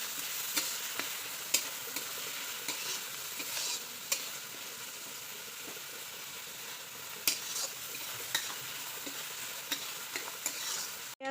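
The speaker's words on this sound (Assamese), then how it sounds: "পিঁয়াজখিনি ভালদৰে ৰঙচুৱাকৈ ভাজি লওঁ।" Chopped onions fry in hot oil with dried chilli tempering for a prawn fish curry, a steady sizzle under repeated sharp scrapes and knocks of a spatula stirring the pan, close up and continuous with no talking.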